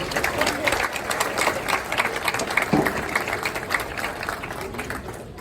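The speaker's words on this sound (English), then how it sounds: "So let's give these kiddos a round of applause." Dense applause from a crowd at a county fair livestock judging, steady clapping throughout with a murmur of voices mixed in.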